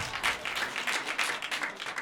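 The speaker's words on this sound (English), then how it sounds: "By a round of applause, how many of you are cat people?" Cat lovers in a stand-up comedy crowd answer with a round of applause, moderate clapping from part of the room that swells and thins in uneven bursts over about two seconds.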